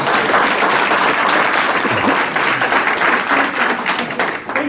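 Dense audience applause from a crowd fills the room at full volume, steady hand-clapping throughout with a slight easing toward the end and faint voices mixed underneath.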